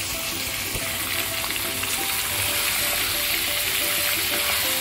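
Chicken pieces frying in oil in a pan for nihari, a dense, continuous loud sizzle with crackling spits throughout, close and steady with no voices.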